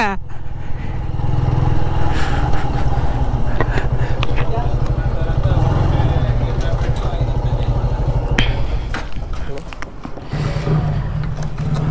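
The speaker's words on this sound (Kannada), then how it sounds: "ಇನ್ನೂ ಬರುತ್ತೆ ಪೆಟ್ರೋಲ್ ಬೈಕ್." A petrol motorcycle on a ride toward Pushpagiri, its engine droning steadily and loudly throughout, with someone talking over the engine noise.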